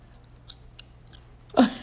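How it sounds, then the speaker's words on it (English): Soft, moist chewing of Eclipse gum close to the mouth, a few faint smacks and clicks spread out over quiet room hum, ending in one louder wet crunch-like smack; no talking. "You chew like a cow."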